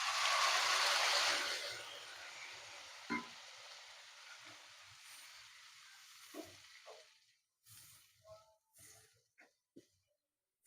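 Chili and ginger fry in a pan as blended tomato puree goes in, giving a loud burst of sizzling that fades quickly into a softer, quieter hiss broken by a few light clinks and stirring sounds.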